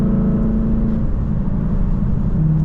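A Lexus LC 500 set to Sport Plus mode drones steadily from inside the cabin while driving, holding a gear with a constant low engine hum and road noise and no clear revving.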